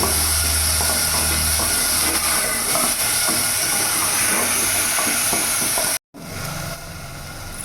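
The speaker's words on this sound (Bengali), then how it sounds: "কিছুক্ষণ নাড়াচাড়া করে ভেজে নেব।" Diced potatoes fry and get stirred in a pan for chicken ghugni, a dense continuous sizzle with scraping stir sounds, briefly cut near the end before the sizzle resumes; no speech.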